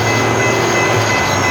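Train 276, pulled by two C6M locomotives, passes near Collier Yard in Petersburg, Virginia, a loud, continuous rumble of rolling railcars with steady engine drone and faint wheel squeal throughout.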